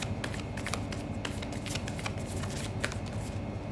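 Tarot cards being shuffled by hand, a steady close riffling with quick flicks and slaps running continuously, no voice over it.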